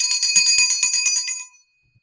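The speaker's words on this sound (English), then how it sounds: "My mom's bell." A small handheld bell rings steadily for about a second and a half with rapid shimmering strokes, bright and close, then stops abruptly and leaves silence.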